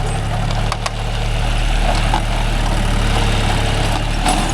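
A John Deere 5105 40 hp tractor engine idles steadily with a deep, constant low rumble and a mechanical drone, close and loud, with no voices.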